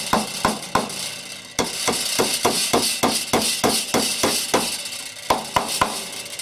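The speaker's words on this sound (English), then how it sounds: "I'm going to drive these in." Pieces for a wooden planter box are hammered in with a steady series of sharp, close, loud strikes, about two per second, with brief pauses between groups.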